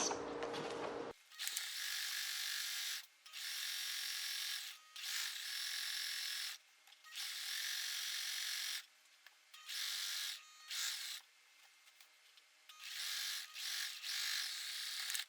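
A sewing machine stitches a blouse facing in bursts, its rapid mechanical whir starting and stopping repeatedly with short pauses between runs, close and steady.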